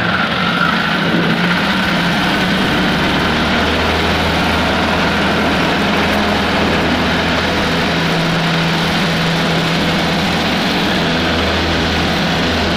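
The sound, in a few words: Zenith CH 750 Cruzer aircraft with O-235 engine taking off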